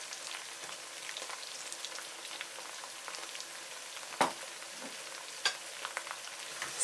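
Ginger and chopped garlic fry in a pan for chicken tagine, a quiet, even sizzle that runs steadily, broken by a few sharp clicks of stirring.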